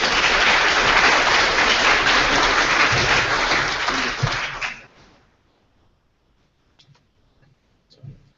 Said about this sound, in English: Give Rudy a round of applause